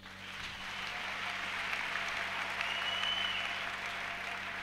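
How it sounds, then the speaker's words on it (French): Applause from a church congregation during a French-language worship service: steady, dense clapping that holds evenly throughout, moderately loud and without speech over it. "Acclame Jésus"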